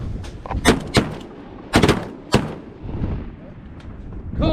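Shotgun blasts during a duck hunt from a concealed waterfowl pit in northwest Indiana, with several sharp loud reports spaced a second or so apart amid faint background voices.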